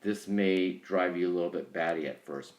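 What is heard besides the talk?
None of the usual background noises is heard.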